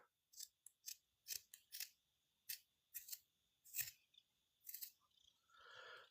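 Scissors snip through fabric or craft material for a costume in a quiet room, about a dozen short, crisp cuts in an uneven rhythm, close and distinct, with a soft rustle of material at the end.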